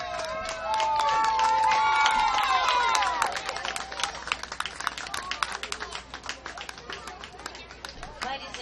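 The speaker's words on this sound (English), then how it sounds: "let's give the champions from the state of South Carolina another round of applause for their play here this week" Applause and cheering from a crowd honouring the South Carolina champions at a coach pitch baseball world series, with a loud, dense burst of clapping that rises under an announcer's amplified voice and then continues on its own.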